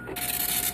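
A printer hooked to a Commodore 64 computer prints a family history book, giving a brief, close mechanical rasp and whir that starts abruptly and runs steadily without talk.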